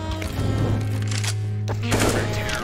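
Bursts of video game gunfire crack out over a steady synthetic hum, with a sharp cluster near the start and another volley toward the end, loud and close.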